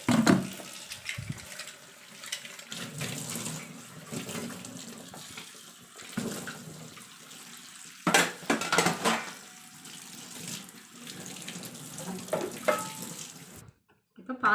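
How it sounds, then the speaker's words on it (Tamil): Water splashes and runs while dishes are scrubbed and rinsed in a tub, with occasional clinks and sloshes close by. "நான் எப்போவுமே இந்த மாதிரி ஒரு பெரிய டப்பில் தாங்க கழுவி வைப்பேன்"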